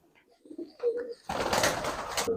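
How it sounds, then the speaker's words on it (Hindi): A pigeon gives a short, low coo, then a sudden louder burst of fluttering and rustling takes over, close by, lasting to the end. "ये कबूतर उस्ताद बता रहे हैं जो बाबा धन्ने हैं उनके घर की बिलट लाइन है"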